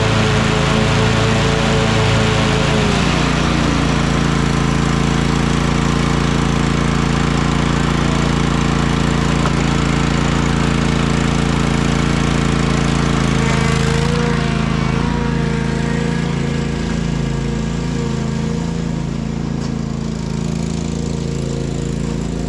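A 2004 Craftsman DLT3000 lawn tractor engine idles with a loud, steady, close drone and an even hum that runs unbroken throughout, slightly easing near the end.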